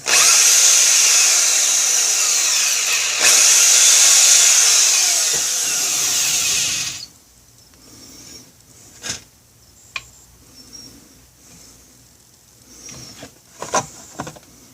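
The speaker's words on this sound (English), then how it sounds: "now let's get this third one here drilled out." A power drill bores a hole through a Kydex sheath for a folding cleaver, whirring steadily and loudly up close for about seven seconds, then stopping and leaving quieter clicks and handling taps.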